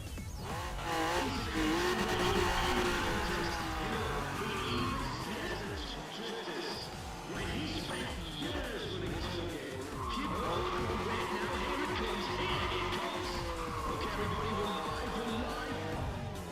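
A Honda NSX roars through a racing video game, its engine whining up and down through gears, with tire squeals and skids, continuous and loud, while a player talks over it.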